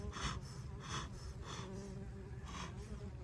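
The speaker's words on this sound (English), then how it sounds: "Already got a bee landing on this side of my camera" Honeybees buzz around a hive entrance right beside the microphone, with close passes swelling and fading roughly every half second over a steady low hum.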